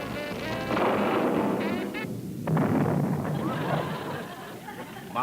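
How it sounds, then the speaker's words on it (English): Cartoon explosions go off from an inventor grandpa's contraption in a 1973 animated TV special, loud booming bursts layered with music and background chatter throughout. "Well, he's certainly inventing some interesting explosions."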